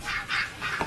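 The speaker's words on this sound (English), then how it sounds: "Why, the bloody geese in the hall, Maureen." Geese honk and cackle in a hall of a guesthouse, several loud overlapping calls close by with no talk over them.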